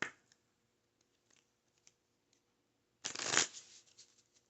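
Tarot cards shuffled for a reading, a quiet rustle and a few soft card taps at first, then one loud burst of riffling near the end.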